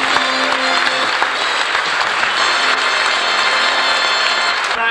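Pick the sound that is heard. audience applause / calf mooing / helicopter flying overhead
audience applause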